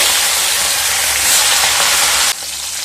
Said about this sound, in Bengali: তেলটা গরম হয়ে গেলে ইলিশ মাছের মাথাগুলো ভেজে নেব।